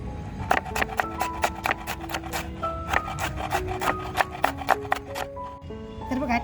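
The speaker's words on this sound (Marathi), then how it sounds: "मस्त असे टॅमॅटो आपल्याला अगदी बारीक कापता येतात" A sharp kitchen knife finely chops tomatoes on a board, producing a steady run of crisp, rhythmic cutting taps up close, with faint room sound and no speech.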